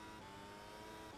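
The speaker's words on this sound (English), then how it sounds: "that high pitch kind of whine you hear a little bit there. I was hitting the rev limiter" Formula One race car engine at high revs in an iRacing sim, a Mercedes Petronas W12 E Performance at the Red Bull Ring, held on the rev limiter with a steady high-pitched whine, loud and continuous without pause.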